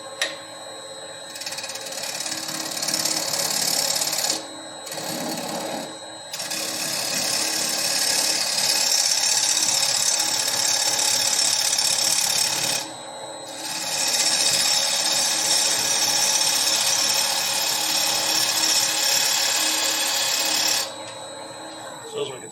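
A wood lathe cuts a dried green bowl, the tool catching only the high spots on the out-of-round blank, giving a loud, steady scraping whine that breaks off briefly twice and runs nearly continuous for over twenty seconds.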